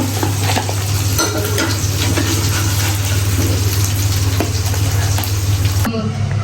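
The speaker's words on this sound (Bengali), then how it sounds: "মাছ ভাজা আমার হয়ে গেছে এখন একটা একটা করে তুলে নিব" Mrigal fish fries in hot oil, a loud, continuous close-up sizzle and crackle over a low steady hum that cuts off abruptly near the end.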